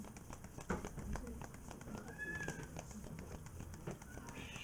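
Agitated cats meow faintly, with a drawn-out cry rising and falling amid soft background rustle and a person talking.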